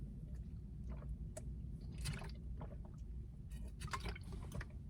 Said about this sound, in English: I'm chugging water because it's salty